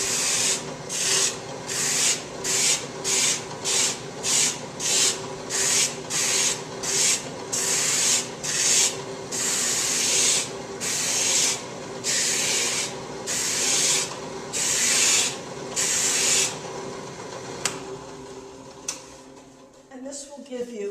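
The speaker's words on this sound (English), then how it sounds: "you can also use this to bevel the outside edge if you want to get a nice finished edge on it" A wooden edge is sanded by hand to bevel it, with about eighteen rhythmic scratchy strokes, close and clear, slowing toward the end before the rubbing stops.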